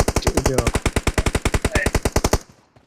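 Automatic gunfire in a mobile shooter video game, a fast even burst of about two dozen loud shots in a row, then cutting off into a brief fading tail.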